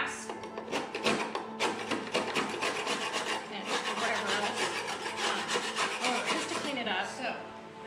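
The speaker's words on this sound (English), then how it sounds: "I just take a putty knife and scrape" Continuous rough scraping as a putty knife works caked-on grass off a surface, close and dense with gritty rasping strokes running throughout.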